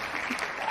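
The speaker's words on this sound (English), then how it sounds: "we got some applause" Brief applause from a small audience at a business talk event, a short burst of soft, scattered clapping.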